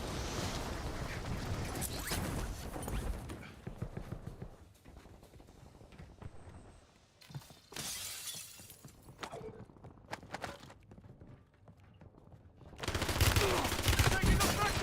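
Bursts of automatic gunfire in a shooter video game, rapid crackling volleys in several loud clusters separated by quieter gaps with mechanical clatter, the final burst heaviest and sustained.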